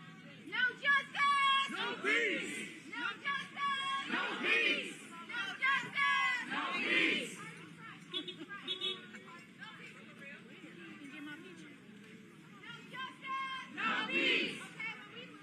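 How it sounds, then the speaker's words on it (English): A crowd of protesters on a march after a fatal police shooting in Wisconsin, with overlapping shouts and loud voices rising and falling in waves, chanting and chatter close by throughout. "some loud voices here in the crowd that have tried to seize control of the march"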